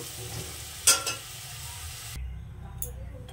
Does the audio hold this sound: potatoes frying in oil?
yes